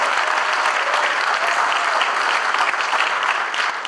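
A crowd at a swearing-in ceremony gives a loud, sustained round of applause for organized labor, dense clapping from many people that holds steady for about four seconds with no talking.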